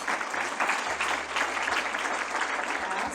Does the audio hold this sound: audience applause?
yes